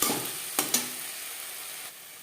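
Spices frying in a pan with onion and tomato, stirred through, giving a steady broadband sizzle with a couple of sharp spoon scrapes early on, close and alone.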